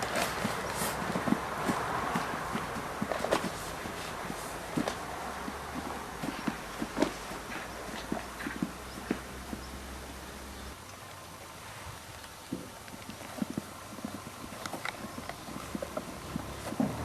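Donkey hooves clip-clop in a steady walking rhythm, faint and moderately close over a soft hissy background.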